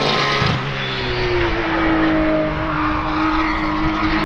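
Race cars lap the Nürburgring track, a loud engine drone held close for about four seconds that rises and shifts in pitch as a car accelerates past, with no talking.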